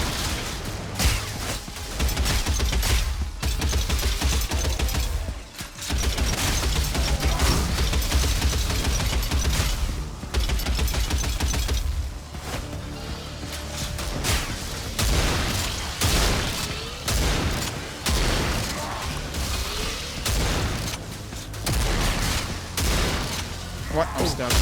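The default shotgun in the video game Hordelord fires rapidly and repeatedly, producing dense booming blasts that continue almost without pause amid busy combat noise, with a few brief gaps.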